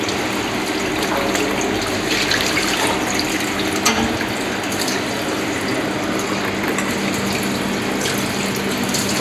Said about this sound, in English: Washing the fish